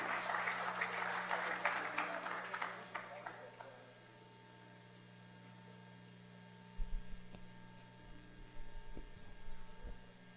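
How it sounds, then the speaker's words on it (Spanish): Audience applause at a telecommunications conference, a loud wash of clapping that fades out over a few seconds, leaving a quiet hum of the room before faint handling noise. "Un aplauso, por favor"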